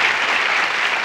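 A studio audience at a Spanish-language comedy talk show bursts into loud, dense clapping that holds steady without a break.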